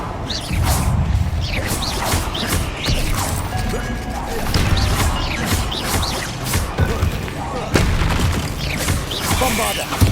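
Confringo spells blasting in the Hogwarts Legacy video game, repeated crashing booms and whooshing impacts in a busy, dense fight, with voices talking intermittently underneath.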